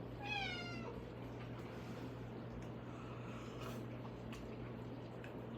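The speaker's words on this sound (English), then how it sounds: "Here's my cat." A domestic cat gives one short, rising meow near the start, close and clear, over a steady low hum and faint background noise for the rest.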